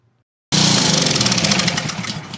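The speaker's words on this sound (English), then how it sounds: "So it started up, shut right back off." A Honda GCV160 engine on a Ryobi 2800 psi pressure washer with a carburetor fault bursts into a loud, steady running roar after a brief silence, holding close and even for about two seconds with no talking.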